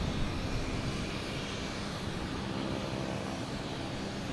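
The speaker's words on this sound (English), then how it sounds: "Next to arrive is Aer Lingus coming in from Dublin, A330." Aer Lingus Airbus A330 arriving at Boston Logan from Dublin, a brief steady jet engine rumble, fairly loud and unbroken, with no voices.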